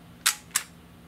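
A Lomo'Instant instant camera, faulty and not ejecting its film, fires its shutter and flash as two quick, crisp mechanical clicks about a third of a second apart, close and alone over faint background hum.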